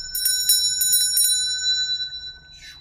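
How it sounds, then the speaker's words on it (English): A handheld bell rings several times in quick strikes, bright and near, each tone ringing on and slowly decaying into quiet, used to clear energy in a room before burning palo santo. "Actually, I'm gonna ring the bell."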